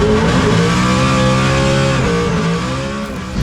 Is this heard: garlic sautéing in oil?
no